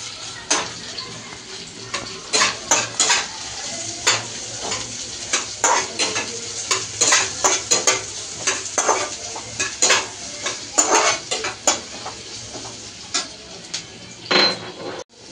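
Vegetables fry in hot oil, including pieces of eggplant, with sharp spattering pops and frequent clattering spatula strokes against the pan over a constant sizzle, close and busy, without speech.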